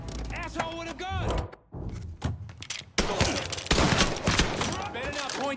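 Gunfire in Mafia 3, a burst of sharp shots and thuds mixed with game noise, shouting voices and music, loud and busy throughout.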